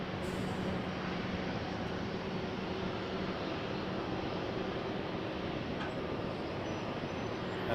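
Steady, loud roar of aircraft turbine engines at Toronto Pearson Airport, a continuous broadband rumble filling the whole stretch without a break or voices.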